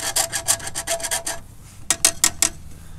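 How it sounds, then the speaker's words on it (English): A chainsaw file rasps a cut brake line end in quick short strokes, about nine in a rapid run, a brief pause, then four more scraping passes, close and crisp. "I've got a chainsaw file here just to"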